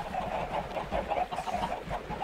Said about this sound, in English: Yep, we have about a gazillion chickens here.